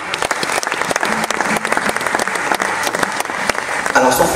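Applause from the audience at a Congolese film awards ceremony, a dense, steady patter of many hands clapping close by, with voices mixed in and a louder swell near the end.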